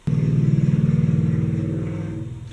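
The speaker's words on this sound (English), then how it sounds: "There's a highway right outside my window, so sometimes there are very loud cars driving down it" A loud car passes on a highway outside a window, a throbbing engine roar with a rapid pulsing rhythm that starts abruptly and fades slowly as it drives away.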